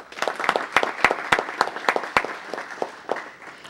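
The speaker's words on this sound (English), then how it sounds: "So everyone, please give them a round of applause." A modest round of applause at a city council meeting: scattered, distinct handclaps from a smallish group, loud and crisp at first, then thinning and tapering off toward the end.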